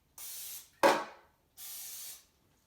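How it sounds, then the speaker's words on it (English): Cooking spray such as Pam hisses onto a pan in two steady bursts of about half a second each, with a brief clunk or rattle between them, close and alone. "We're going to take the pan and spray it with some Pam."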